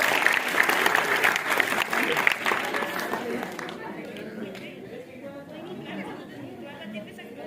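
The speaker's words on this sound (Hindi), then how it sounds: "जोरदार तालियां बजती रहनी चाहिए" An audience at a Lucknow institute's foundation day ceremony claps loudly for a prize winner, with chatter mixed in. The applause fades after a few seconds into quieter crowd murmur and talk.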